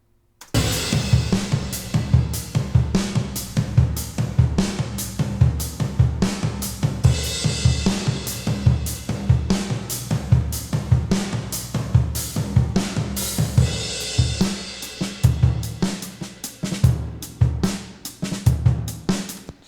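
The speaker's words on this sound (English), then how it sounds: "So altogether, the drums sound like this." The full mixed drum track of the song plays on its own: punchy kick and snare hits drive a steady rock beat with cymbals washing over the top. The fills grow denser toward the end.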